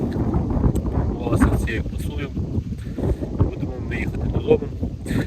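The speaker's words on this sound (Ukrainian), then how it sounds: "Зараз погода вітряна, як бачимо і чуємо, що вітер." Wind buffets the microphone with low rumbling gusts while a person speaks close by outdoors.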